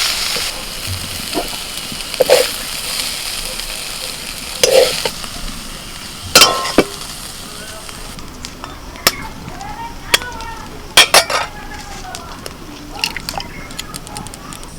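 Lentils and susuni greens fried with potatoes in a pan, a low sizzle broken by repeated sharp scraping and clanking stirs, close and fairly loud, with no talking.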